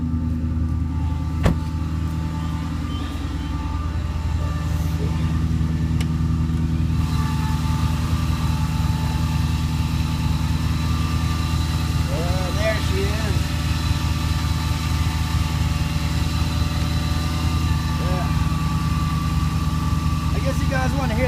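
An Infiniti M45 V8 with a FlowMaster exhaust idles with a steady, deep rumble, rising briefly in a couple of short revs partway through.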